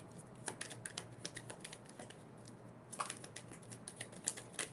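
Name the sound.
shuffling tarot cards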